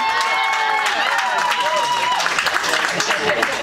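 Audience at a Nerd Nite talk in DC clapping together, a dense, loud, steady wash of applause with some cheering mixed through it.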